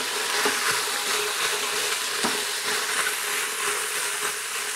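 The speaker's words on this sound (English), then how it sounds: "So this has been frying for about two minutes now." Steady bright sizzling of cabbage stew vegetables, including celery, frying in an Instant Pot, a continuous hiss with occasional pops and crackles, close and fairly loud.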